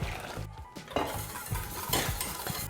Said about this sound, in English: as soon as the custard boils, continue whisking constantly for 2 more minutes